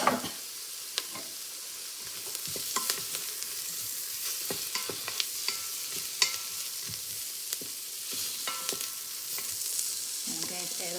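Chopped, drained mushrooms fry in a pan for a mushroom soup, with a constant close sizzle under occasional clicks and scrapes of a utensil being stirred.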